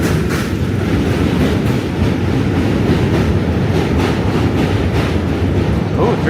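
A subway train rumbles loudly across Manhattan Bridge in New York City, a steady, close, broadband roar with rhythmic clickety-clack of wheels over rail joints running unbroken throughout, with no voices audible.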